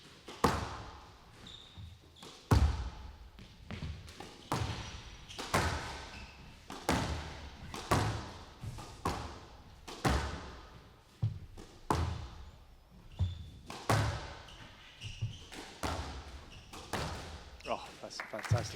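Squash ball and rackets during a women's match at the 2021 Manchester Open, a long rally of sharp thwacks and wall thuds in an irregular rhythm, echoing in the court, with a commentator talking over the play.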